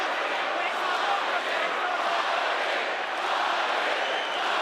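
A boxing arena crowd roars steadily during the Usyk vs Briedis fight, a dense sustained wall of cheering and shouting with no break, loud and close throughout.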